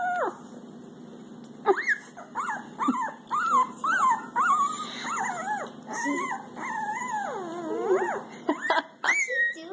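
A pomsky puppy tries to howl close by, a run of rising and falling whimpering yips and wavering howls, broken by short pauses.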